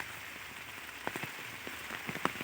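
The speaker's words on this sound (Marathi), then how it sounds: "आज रानामध्ये सकाळपासून पाऊस चालू" Rain falls steadily on a farm field, a soft even patter close by, with a few sharper drops standing out.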